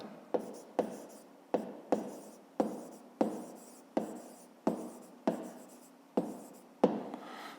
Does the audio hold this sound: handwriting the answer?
yes